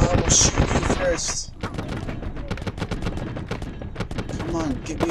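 Call of Duty Advanced Warfare gunfire during a veteran mission firefight in traffic, with dense rattling automatic shots and sharp reports continuing throughout, a voice speaking over parts of it.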